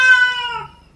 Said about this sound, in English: it's my three-legged cat